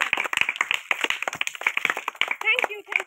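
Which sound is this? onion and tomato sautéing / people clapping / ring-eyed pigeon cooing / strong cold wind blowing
people clapping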